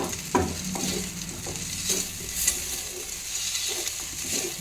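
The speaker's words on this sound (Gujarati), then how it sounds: "તાલખાના મદદથી આપણે થોડીક એને ફેરવી પણ લઈએ આપણી મકાઈ છે" Corn chevdo frying in a wok, a steady close sizzle and hiss broken by a few scraping stirs of a spatula against the pan, with no voices over it.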